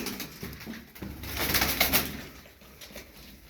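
Çapar game pigeons cooing nearby, soft repeated throaty coos rising and falling in a small flock, with faint wing and shuffling noises and no talk.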